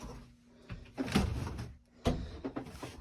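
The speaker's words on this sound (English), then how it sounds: "sliding barn doors." Wooden sliding barn doors on a farmhouse pantry roll and thud twice in quick succession. The sounds are fairly close but soft in a quiet room.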